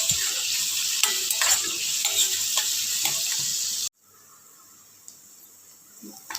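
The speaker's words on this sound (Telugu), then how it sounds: "తన కోసం ఎగ్ ఫ్రై చేస్తున్నాను" An egg frying in a pan with a bright sizzle and light stirring scrapes that stop abruptly partway, leaving a quiet room with a few faint clinks.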